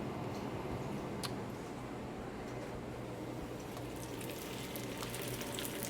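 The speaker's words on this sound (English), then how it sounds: "we do a good amount of oil for this, just so we can get a nice even sear on the tortilla" A tortilla sears in a generous layer of oil in a pan at Golden Diner, giving a faint, steady bubbling sizzle with scattered light ticks and pops throughout.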